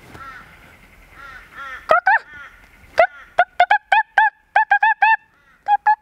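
A person's voice mimics an Australian magpie call, delivering a run of short, sharp, warbling squawks in uneven bursts, loud and close, with brief pauses between notes.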